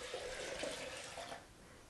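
Water running from a kitchen tap to measure about two cups for homemade oat milk, a steady hissing splash near the microphone that cuts off shortly before the end.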